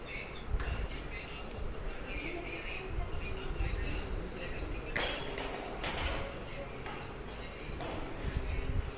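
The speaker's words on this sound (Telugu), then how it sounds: "Araku railway station." Open-air ambience at Araku railway station, with broadband rumble and occasional metallic squeals and clanks from rail activity, faint voices mixed in throughout.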